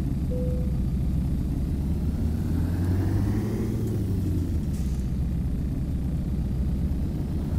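Ural Next truck engine in American Truck Simulator, a loud, low rumbling drone that rises and falls in pitch as the truck accelerates and shifts, with no talk over it.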